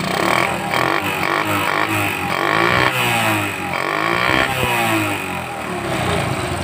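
A Honda C70 motorcycle engine runs steadily at a low idle, a continuous rumbling drone with no revving, loud and close throughout.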